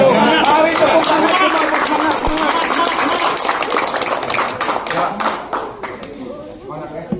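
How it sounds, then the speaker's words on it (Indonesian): A gathered crowd claps together at the announcement of a court ruling rejecting the case review in the Vina case, dense and close, with overlapping voices and chatter running through it and thinning toward the end. "Mari tepuk tangan."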